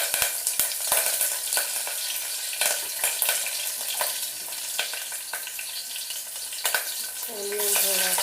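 Green chilies dropped into hot oil sizzle and crackle steadily in a pan while cooking methi pulao, with a few sharp pops and a clink of utensils near the end.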